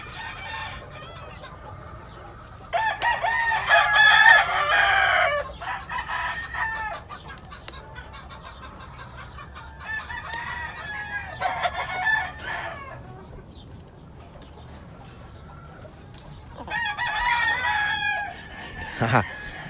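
Lacy Roundhead chickens, a hen and a rooster, cluck in several loud bursts with stretches of quieter background between them.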